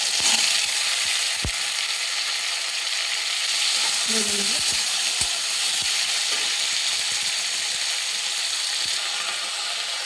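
Chopped tomatoes sizzle steadily in hot oil in a kadai, a continuous broadband frying hiss with a few scattered clicks and scrapes as they are stirred, fairly close and without any talk.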